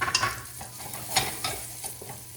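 A boneless pork loin chop fries in oil in a pan, giving a soft, crackling sizzle broken by a few brief stirring scrapes, close and fairly quiet, with no talking.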